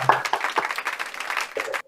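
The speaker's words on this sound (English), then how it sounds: "request all the participants to please clap loudly for APS Bendubi" An audience at a school quiz grand finale claps for a participant. The burst of applause is short and fairly close, with a bit of voice mixed in before it stops suddenly.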